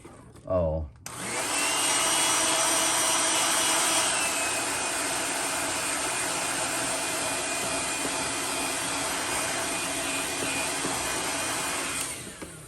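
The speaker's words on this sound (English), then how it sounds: "gonna go ahead and heat set this really quick" Heat gun switched on close by to heat-set paint on a swimbait fishing lure, a loud steady blowing roar with a faint high whine that runs evenly until it shuts off near the end.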